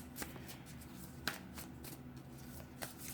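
Crisp, rapid riffling of tarot cards being shuffled close up, in quick bursts with a few sharp snaps, under faint background hum.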